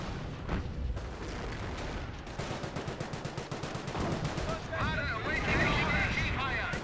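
Mortar barrage in Company of Heroes 1 as a dense, continuous stretch of booming gunfire and explosions with rapid repeated shots, under an excited commentator's voice throughout.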